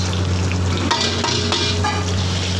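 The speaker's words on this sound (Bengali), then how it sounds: "ভালো করে পেঁয়াজ আর এই লঙ্কাগুলিকে ভালো করে ভাজতে হবে" Onions and chillies sizzle loudly and steadily in a hot pan, with a few soft stirring scrapes.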